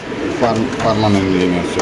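Racer pigeons coo in a steady run of low, throaty calls, close and fairly loud, with people talking over them throughout.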